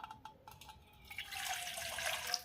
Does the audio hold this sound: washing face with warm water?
yes